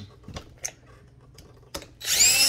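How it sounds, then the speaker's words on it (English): A power drill biting into a metal lampshade for a homemade vintage-trailer lamp, a short, close whine starting abruptly after a few quiet taps and handling clicks. "I'm going to drill my first hole"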